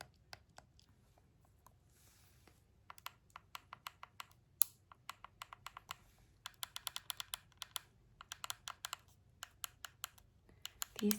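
Game controller buttons click and tap in quick, irregular bursts of soft, close presses, some clusters rapid and others spaced out, with no talking over them.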